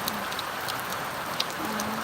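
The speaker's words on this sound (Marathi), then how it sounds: "आमच्या घरात पाऊस" Rain falls steadily at a home, a constant soft hiss with a few sharper drip taps, with no voices present.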